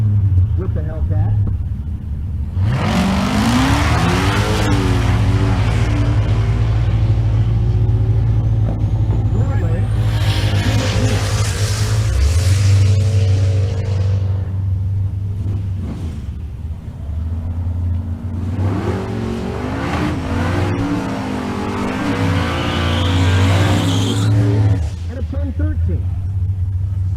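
A Dodge Charger Hellcat at a drag racing event roars loudly and close, its engine note rising through revs and falling away, then building again, with a commentator talking over it.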